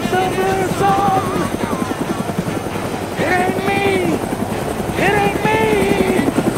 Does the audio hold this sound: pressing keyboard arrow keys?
no